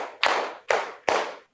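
Three crisp group claps from a class of students keeping a counted rhythm, evenly spaced and loud, each followed by a short room echo before fading.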